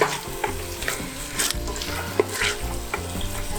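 Curry powder sizzles steadily in hot oil in a cast-iron potjie pot, close and continuous, with occasional scrapes and clicks from stirring, and no talk.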